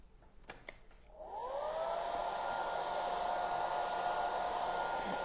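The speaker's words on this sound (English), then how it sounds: "I might just hit that with a hairdryer" A hair dryer switches on after a few faint clicks and blows steadily with a high whine and airy hiss, drying water-based paint over raised stencil work on furniture or signs, close and alone.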